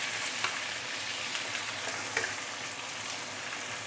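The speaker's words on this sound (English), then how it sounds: "give it some stir fry" Pork belly pieces stir-fry in a wok with rock sugar, making a constant hissing sizzle with a few small spatters and stirring taps.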